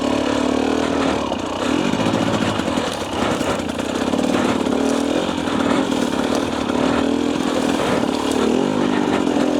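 A 2024 Husqvarna TE250 dirt bike rides through a rocky wash, its engine buzzing loud and close without a break, with the pitch climbing and falling as the rider works the throttle.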